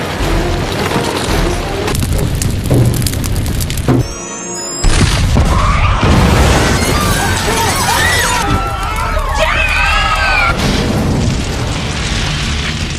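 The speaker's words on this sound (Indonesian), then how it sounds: "terjadilah ledakan super dahsyat yang membuat seluruh mal meledak dan roboh" A film scene of a massive explosion destroying a shopping mall: heavy booms, crashing debris and shattering roar fill the mix, with a brief dropout midway, and a narrator talks over much of it.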